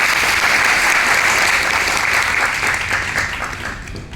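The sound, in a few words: audience applause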